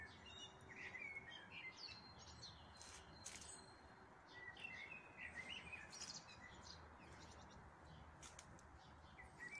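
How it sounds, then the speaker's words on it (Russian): Several birds chirp and sing outdoors near a garden tree in spring, bright tweets scattered at varying distances over a quiet background, with no one speaking. "Как мне нравится, что у нас много птиц."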